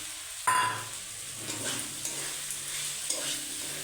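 Cauliflower florets and potatoes sizzle steadily in a hot pan, with a sharp burst as the florets go in and repeated scraping stirs of a utensil against the pan, no talking.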